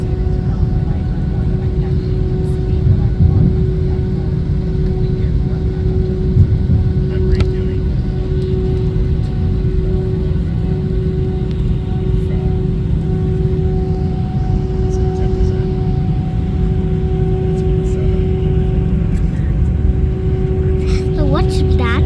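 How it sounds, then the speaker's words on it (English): Cabin view aboard an American Airlines A321-200 taking off from Phoenix Sky Harbor International Airport, with a loud, steady engine roar and a constant low drone holding throughout, overlaid by a faint tonal hum and occasional muffled voices. "And we're taking off right here."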